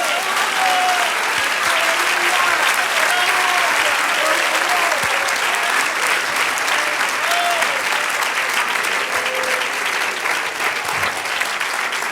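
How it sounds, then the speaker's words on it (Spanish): Church congregation applauding at a sermon, dense steady clapping sustained throughout, loud and close with faint voices mixed in. "Da un aplauso al Señor."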